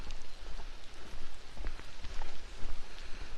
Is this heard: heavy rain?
yes